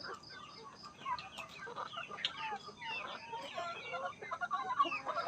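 Chickens cluck continuously on a small family farm, several birds close by with overlapping, irregular calls and soft chatter throughout.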